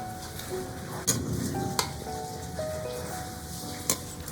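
Fish soup with tomato and onion bubbling in a pot, a steady close simmering hiss with a few sharp utensil clinks against the pot.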